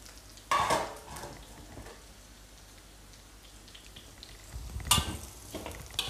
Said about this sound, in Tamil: ஸோ இதையும் சேர்த்துக்கிட்டு நல்லா வதக்கிக்கலாம் ஃப்ரெண்ட்ஸ்.